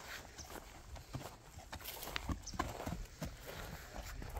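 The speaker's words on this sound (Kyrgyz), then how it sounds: "Бастырыңчы, узатта баскандарында көрүп коелу." A thin half-bred young horse walking for a sale, quiet irregular hoof clops on hard ground heard from a short distance, fairly faint, with no talking.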